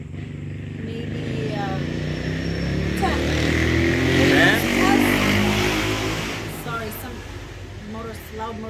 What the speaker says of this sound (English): Loud motorcycle just passed.